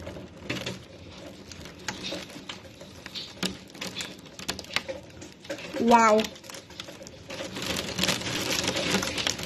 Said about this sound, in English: Oh, that's hail. Oh, that is hailing.